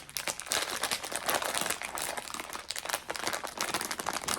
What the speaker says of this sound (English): Let's try and rip this off here.